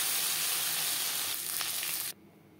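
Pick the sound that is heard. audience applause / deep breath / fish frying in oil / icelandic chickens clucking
fish frying in oil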